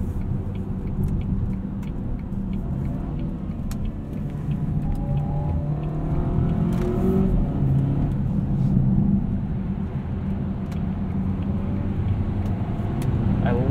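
Cabin rumble from a 2018 Volvo V60 T6 AWD R-Design on the road, heard from inside with a steady low drone and engine and road noise that swells gently as it pulls.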